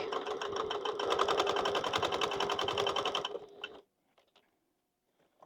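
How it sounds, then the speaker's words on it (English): A sewing machine stitches forward and then backstitches, buzzing steadily and loudly close by for about three seconds before stopping abruptly, with a few faint clicks afterward. "So I'm going to take a stitch forward and then go a few back."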